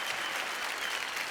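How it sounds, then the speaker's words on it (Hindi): Loud, dense applause from a TV studio audience, a continuous wash of many hands clapping at a steady level with no voices over it. "जोरदार तालियां।"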